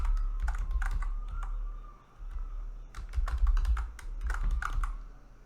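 A computer keyboard types a password during an ESXi installation, quick irregular keystroke clusters close up with a brief pause midway.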